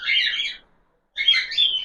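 Bright, close budgerigar chirps in two quick chattering bursts, separated by a short pause.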